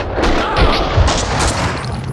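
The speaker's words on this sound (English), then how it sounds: "Someone must have heard the gunfire." Gunfire in the video game Max Payne 2 fills the scene as a loud, dense barrage of overlapping shots and booms with heavy low rumble, continuous throughout.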